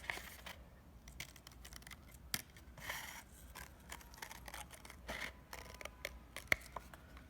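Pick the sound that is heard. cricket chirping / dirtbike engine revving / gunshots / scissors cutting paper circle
scissors cutting paper circle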